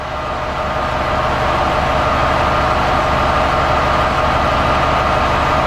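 A 6-cylinder MMZ diesel engine with Bosch common rail fuel injection idles in a steady, loud drone. Its low rumble stays even for the whole stretch, with no talking over it.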